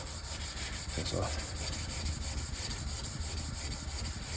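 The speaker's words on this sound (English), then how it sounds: "Probably can go ahead and lap this stone again." A Japanese natural sharpening stone is lapped flat, producing a steady, close gritty rubbing and scraping that continues throughout, with a brief spoken phrase.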